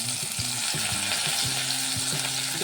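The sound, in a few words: stuffed okra frying in hot pan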